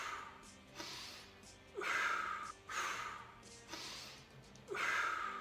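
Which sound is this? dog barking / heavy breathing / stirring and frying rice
heavy breathing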